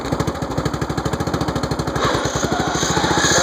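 Tractor engine idling in first gear with no throttle, a loud, choppy, rapid chugging pulse that runs steadily throughout and grows slightly fuller and louder partway through.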